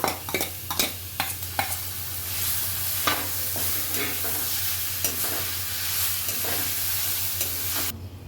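Raw mango sautéing with fried lentils and curry leaves in a pan makes a steady sizzle broken by repeated sharp scrapes and taps of the stirring spoon, close and fairly loud, with no speech.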